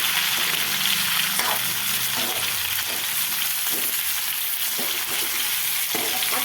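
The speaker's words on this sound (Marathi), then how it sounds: "आणि चांगलं परतून घेते त्याला मी वांग्याला" Stuffed brinjals sauté in a hot pan with a steady, close sizzle, broken by repeated scraping stirs at an even pace throughout.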